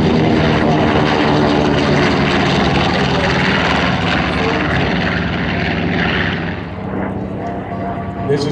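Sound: propeller airplane flying past at an airshow

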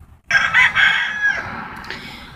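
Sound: rooster crowing

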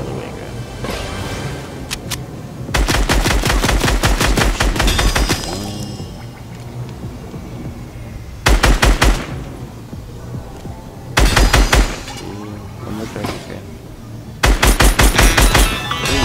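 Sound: SMG gunfire shooting targets from a grind rail in Fortnite video game

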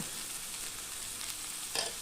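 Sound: fish frying in coconut oil

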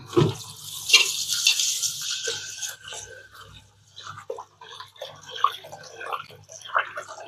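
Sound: washing soaked rice and millet grains by hand in water

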